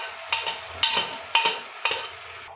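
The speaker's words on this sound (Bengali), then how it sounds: "তো ডালটাকে ফোড়ন দিয়ে দিই ভালো করে।" Dal tempered in a hot pan with fennel paste, ginger paste and asafoetida, giving several short close scraping and sizzling bursts in an even rhythm, with soft frying hiss underneath.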